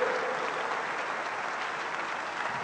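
A church congregation claps for the Lord, producing a steady, dense wash of many hands clapping together without pause.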